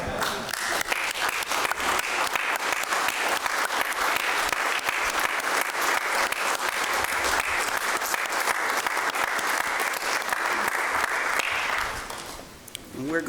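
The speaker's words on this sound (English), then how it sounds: "All those in favor, stand and clap." A county commission meeting audience stands and applauds, producing sustained, dense clapping from a crowd that fills the room for about twelve seconds before tapering off, with a voice briefly heard at the end.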